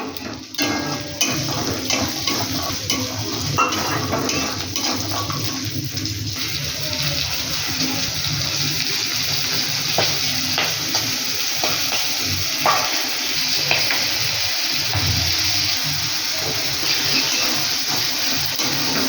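Green peas fry in a pan, giving a steady, loud sizzle, with scraping stir strokes and occasional clinks of the utensil against the pan throughout.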